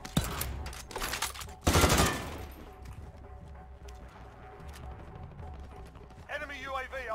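Gunfire in Warzone Plunder: a sharp burst of shots and a loud crack rise over quieter game ambience, with players' voices talking now and then.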